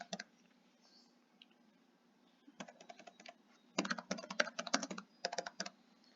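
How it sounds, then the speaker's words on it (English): Search terms typed on a computer keyboard in a quiet room, with sparse early taps and then fast clustered bursts of clicky keystrokes, faint and close. "I'm going to keep it pretty simple and just type in the search fields."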